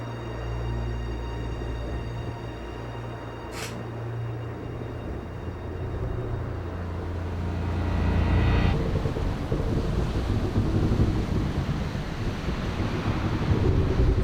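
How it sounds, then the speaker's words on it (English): A galleon ploughing through open ocean in Bloodstained: Ritual of the Night, a constant rush of surf and wind that swells louder and rougher partway through, with a faint tonal hum underneath and no talking. "Their galleon cuts through the water, lancing towards the inevitable."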